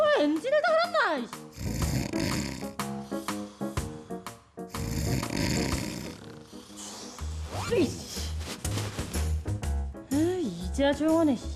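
A father's snoring in a cartoon, rendered as loud, exaggerated rumbling snores in repeated long bursts, with animated character voices and music between them.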